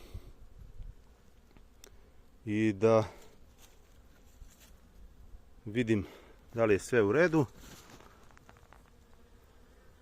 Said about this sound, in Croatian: Evo, pčele su tu.